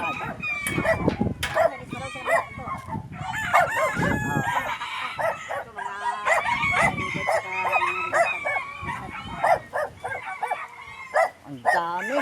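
Many roosters crow at once across a large gamefowl farm, some near and some farther off, with clucking and a barking dog mixed in. People talk over the steady din.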